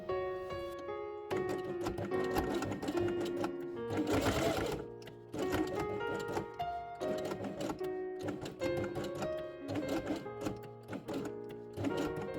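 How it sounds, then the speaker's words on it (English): A sewing machine runs in steady whirring bursts, stitching beard pieces along an outer edge with white thread for a fabric nativity quiet book page. The bursts are separated by brief pauses, close and continuous. "sew beards along the outer edge with white thread"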